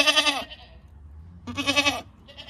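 Goats bleat loudly and close in two long, wavering calls separated by a pause, with a fainter third cry starting at the end.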